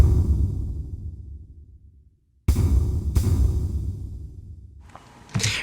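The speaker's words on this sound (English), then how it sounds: "the kick bass and kick bass crash" Kick bass and crash tracks from a theme arrangement play together as deep booming kick hits under washy, decaying cymbal crashes, with a short silence and a rising swell near the end.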